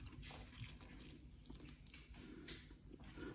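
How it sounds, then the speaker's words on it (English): Tap water pours steadily into a pan of oysters, a continuous close splashing and gurgling rush with no voices. "fill it with water until it just covers the oysters."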